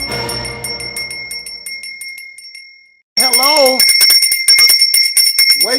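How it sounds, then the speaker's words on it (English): A bell strikes and rings with bright sustained tones, fading away over about three seconds before loud speech cuts in abruptly. "That is the bell of freedom."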